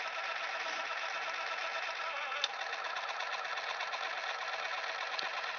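An Apex AFS aquarium feeder motor spins with debris rattling inside, a steady close mechanical whir with faint ticks and no talking over it.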